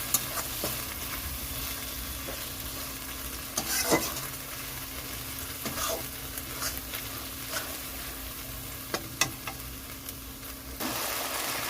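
Ginger, green chili and cumin paste sizzles and fries in a pan for spiced mutton kasha. A steady crackle runs throughout, with scattered louder pops and scraping stirs and no talk.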